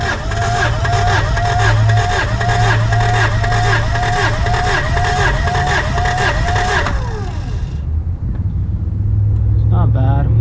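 A car engine cranks over rhythmically for about seven seconds during a compression test, with even, repeating starter pulses, then stops, and voices talk nearby.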